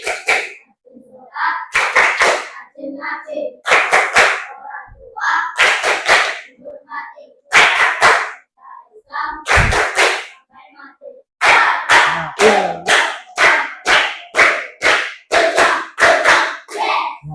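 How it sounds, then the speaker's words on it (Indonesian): A classroom of children chants the 'tepuk anak soleh' clapping song, with crisp claps in short rhythmic bursts over their chanted voices, pausing briefly between verses. "Kita tepuk anak soleh."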